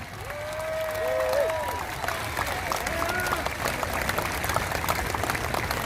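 Rally crowd at a Black Lives Matter protest applauds in a continuous, moderately loud patter, with faint tonal sounds like whistles or distant voices drifting over the clapping.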